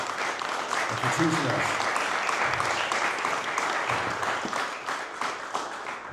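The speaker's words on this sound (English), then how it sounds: "I want to give a special thanks and round of applause for our brother Malik Edwards" Applause from a gathered crowd at a Black Panther Party museum event, a sustained, even wash of clapping with a few voices murmuring underneath.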